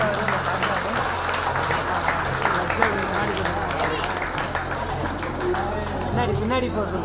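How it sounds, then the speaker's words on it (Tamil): Parents applauding at a school event held during a Salangai Pooja ceremony, a busy wash of clapping mixed with crowd murmur and talk, with a steady low hum underneath. "அதுக்கான பலத்த கரகோஷத்தை பெற்றோர்கள் தரும்போது தாழ்மையை கேட்டுக்கொள்கிறேன்."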